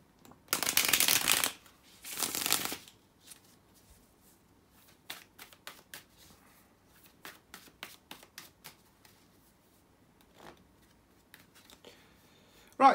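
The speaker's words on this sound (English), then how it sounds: "let me shuffle" Two bursts of riffling tarot cards, then a run of soft, quick card snaps and flicks as the deck is handled, close and fairly quiet.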